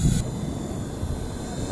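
Small inexpensive RC helicopter flying at full throttle, a steady near motor and rotor whine held at constant level, with a brief louder burst at the start.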